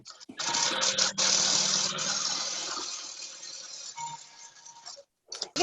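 A long-arm quilting machine stitches through a quilt with a steady, close motor whir that runs unbroken for about five seconds, then stops abruptly. A short clink follows near the end.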